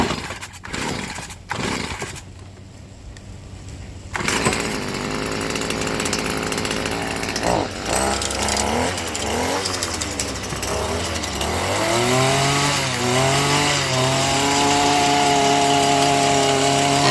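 A STIHL weed eater with an edger blade fitted: a few pull-start tugs, then the small two-stroke engine catches, revs up and down, and settles into a loud, steady high whine as the blade spins.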